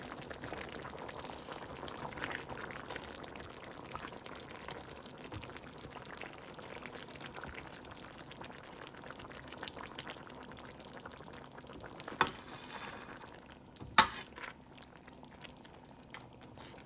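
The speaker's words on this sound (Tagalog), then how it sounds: "Haluin natin." A pot of menudo stew seasoned with Ajinomoto is stirred as it simmers, giving a steady bubbling, sloshing wash throughout with two sharp scrapes of the utensil against the pot near the end.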